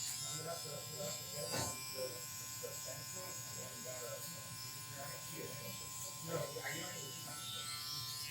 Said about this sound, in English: I'm talking about the Instinct trimmer.